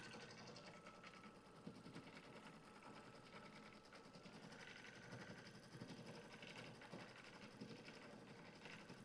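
An embroidery sewing machine stitches in a quiet, rapid, continuous whir with a fine mechanical rattle, running on its own without speech.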